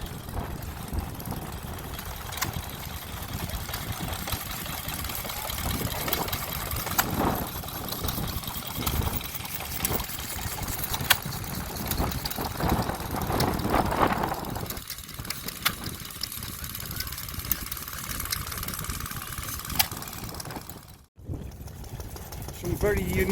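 A vintage stationary engine driving a water pump at a vintage steam fair, a steady mid-pitched running chug with faint knocking beats heard amid outdoor crowd noise and background talk.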